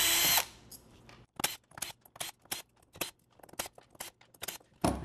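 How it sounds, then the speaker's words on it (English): Power driver removing T20 Torx screws from a GMAC hub motor, opening with a loud whirring burst, then a string of short, close buzzing spins at a fairly regular pace. "So we'll remove the 9 screws with the T20 torx."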